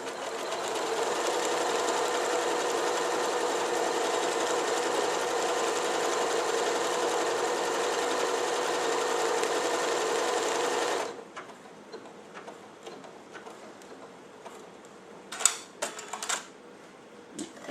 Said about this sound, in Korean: 스타트를 그대로 한번 눌러 보겠습니다